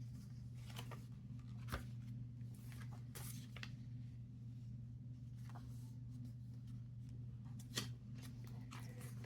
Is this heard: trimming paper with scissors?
yes